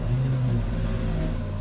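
An old school inline six truck engine revs on a dyno, a loud continuous close-up drone with a brief rising pitch early on before settling.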